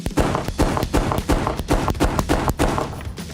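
Gunshots at an indoor shooting range sound as a rapid, steady string of loud, sharp reports, about two per second, each with a booming tail and no talking in between.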